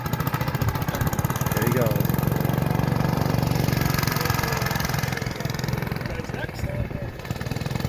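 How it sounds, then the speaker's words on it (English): Rear-engine Fox Trac tractor at an antique engine show, running loud and close with a steady chugging idle while a voice speaks briefly over it. "there's a rear engine Fox Track right over here. About to go for a ride."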